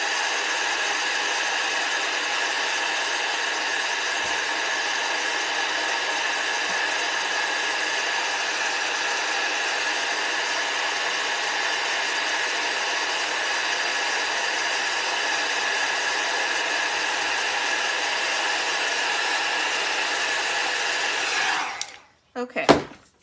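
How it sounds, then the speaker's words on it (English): A heat tool blows steadily for about twenty seconds while heating embossing powder on a handmade card, a loud constant whirring hiss close by, before it clicks off and a brief handling clatter follows. "All right, let's heat this up real quick."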